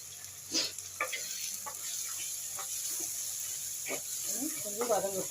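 Two large onions and two medium tomatoes sautéing with a little salt in a pan, a steady soft sizzle with occasional stirring scrapes, while someone speaks over it.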